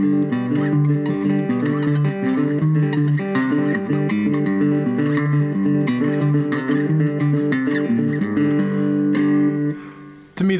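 A three-string cigar box guitar plays the flamenco piece Malagueña with all strings sounding together, a dense strummed and picked run of tones lasting about ten seconds with no talk, stopping just before the end.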